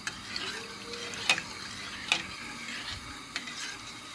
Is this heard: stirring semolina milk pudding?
yes